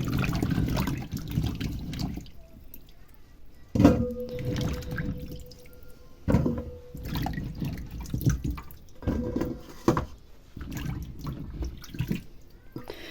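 Carrots being washed and rubbed in water at a sink, with splashing, dripping and knocks at close range, fairly quiet, no talking.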